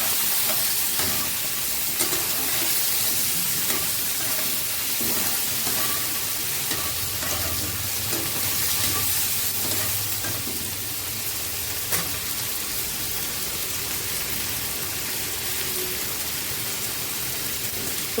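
Chopped onion sizzles and hisses in a hot pan for an Indian-style egg omelette curry, a steady close frying sound with occasional stirring scrapes and no talking.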